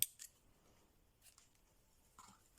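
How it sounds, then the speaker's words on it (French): Scissors cutting paper or ribbon while making a handmade mini album, heard as a few sharp close snips spaced apart over quiet background, with no talking. "Alors je vais couper ici."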